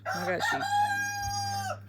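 A rooster crows once, loud and close, a full drawn-out cock-a-doodle-doo with a low steady hum behind it.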